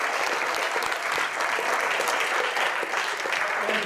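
Sustained applause from a contest audience greeting the people who stepped onto the stage, a dense, steady patter of many hands clapping throughout at an even, fairly loud level.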